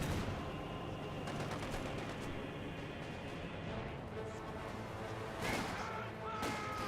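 A captured .50 cal machine gun firing in Company of Heroes 2, its rapid bursts blending into a steady wash of battle noise, with another burst near the end and a voice faintly underneath.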